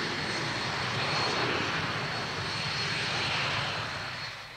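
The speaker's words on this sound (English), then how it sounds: "The Viking is a carrier-borne anti-submarine aircraft which has no equivalent in the British forces." The steady, loud drone of a Viking carrier-borne anti-submarine aircraft's engines holds through the whole stretch and fades slightly at the end, with no voices over it.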